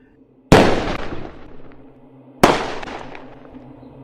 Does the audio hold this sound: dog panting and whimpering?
no